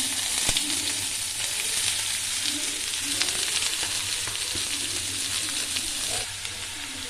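Chopped bitter gourd and cabbage fry in a hot pan with curry leaves, giving a steady, close sizzle with soft scraping stirs throughout and a slight drop in intensity near the end.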